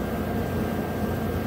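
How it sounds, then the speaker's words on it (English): Household furnace running overhead, a steady broadband rumble and airy hiss with no change in level, continuous and close enough to fill the room. "Apologize for the noise, but the furnace is running above me."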